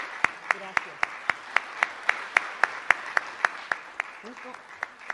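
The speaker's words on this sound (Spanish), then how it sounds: "de verdad sí merece un aplauso muy fuerte" Steady, evenly spaced hand claps at an academic talk on teaching challenges, about four sharp claps per second for the whole stretch, with faint voices murmuring underneath.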